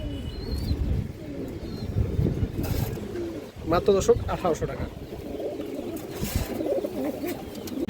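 Muslodom pigeons, a Shaha-line pair kept for sale, coo softly in short repeated bursts close by, mixed with chirps, beneath someone talking over them.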